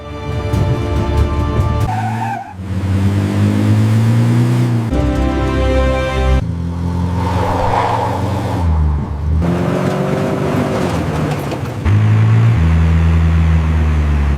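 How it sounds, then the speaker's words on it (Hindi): A fast-moving military jeep approaches, its engine loud and close with tyre squeal and skidding, the pitch rising and shifting over about fourteen seconds amid dramatic background music, with no talk. "लगता है कोई तेज रफ्तार गाड़ी है"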